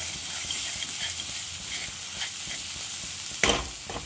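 Masala frying in oil for matar paneer, a dense steady sizzle with soft stirring scrapes and one brief louder clatter near the end.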